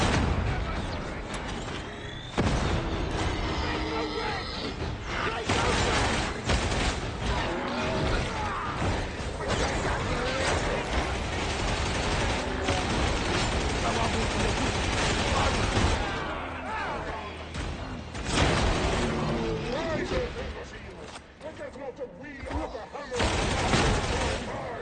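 Enemy gunners in Warhammer 40,000: Darktide pour out sustained gunfire, dense rattling bursts layered with clanking and crashing game effects that run almost without pause, loud and close throughout.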